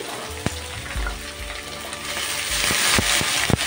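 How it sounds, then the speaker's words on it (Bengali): Bitter gourd tipped into a pan of frying chili and onion, a steady close sizzle with sharp clacks and scrapes of stirring scattered through, rising louder toward the end. "এখন আমি এখানে দিয়ে দেব করলা"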